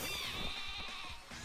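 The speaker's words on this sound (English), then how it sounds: "You send out your goddamn sheep?" Wooloo, a sheep Pokémon, cries in Pokémon Sword with one short, bright bleat that sounds close, loud and steady, and no voices are heard.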